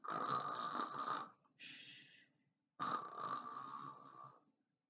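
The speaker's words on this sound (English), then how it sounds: "he began to snore" A man snores loudly nearby: a long rasping inhale, a softer wheezy breath, a pause, then another heavy rattling snore.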